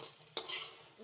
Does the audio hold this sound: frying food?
yes